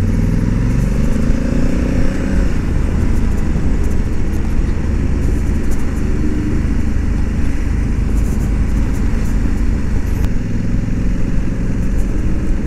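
A Honda Africa Twin 1100L motorcycle is ridden along a country road, its engine a steady, loud, close rumble with rushing wind throughout and no talk.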